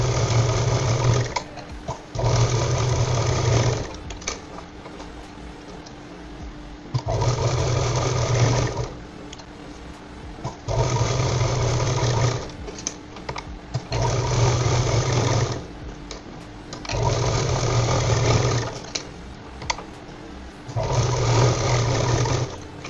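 A domestic sewing machine stitches a fabric purse cut from blouse material, running in repeated bursts of a few seconds each with short pauses between, close and steady with no talking.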